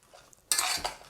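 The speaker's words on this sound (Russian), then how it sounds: "Перемешаем немножко." A spoon scrapes and clinks in a bowl while sugar is stirred into a Korean-style shredded carrot and cabbage salad. It is one short, close, bright stirring burst after a quiet moment.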